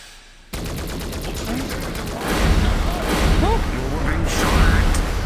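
Rapid bursts of gunfire in a VRChat roleplay game, loud and dense volleys rattling on almost continuously after a sudden start, with voices faintly mixed underneath.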